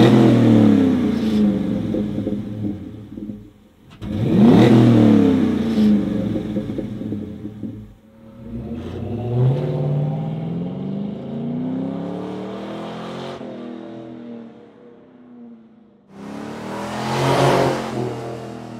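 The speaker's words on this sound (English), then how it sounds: "deepest sounding street mufflers that we've ever built" A car fitted with a Flowmaster deep-sounding street muffler exhaust revs repeatedly, giving several loud, deep bursts that climb and fall, separated by brief quieter idle gaps, with no one speaking.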